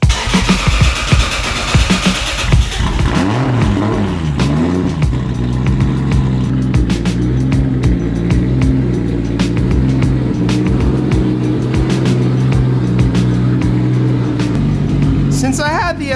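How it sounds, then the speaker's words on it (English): Tuned cars with straight pipes (RB25, VR38 and 2JZ engines) doing two-step launch control: loud, rapid popping bursts and crackles, then a sustained roaring idle with harsh exhaust tone, close up and alone. "give the neighbors a little taste of what two-step sounds like"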